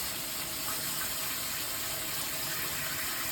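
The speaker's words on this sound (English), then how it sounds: "I have to pour cold water on it right away" Steady gush of cold water poured over just-cooked asparagus in a pot or sink, a continuous close splashing stream lasting a few seconds with no talking.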